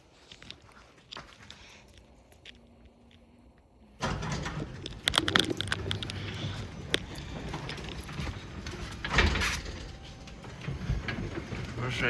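A Genie 3055 garage door opener runs a reverse test, its motor and chain drive starting abruptly after a quiet stretch and grinding steadily with mechanical clatter and a few sharper knocks until the clip ends.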